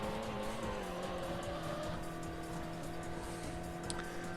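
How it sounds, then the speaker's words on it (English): A car drifting in the racing game Import Tuner Challenge, steady engine drone with sustained tire squeal throughout, fairly faint and continuous, with no talking. "This car is ridiculous drifting. There you go. I will slide there."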